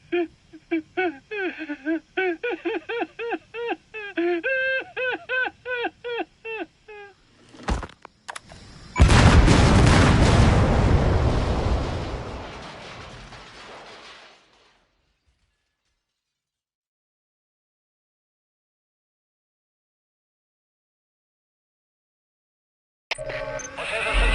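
A separator tank explodes in Metal Gear Solid V: The Phantom Pain, first a sharp crack and then a loud roaring blast that rumbles for several seconds and dies into silence, after a stretch of voiced game dialogue.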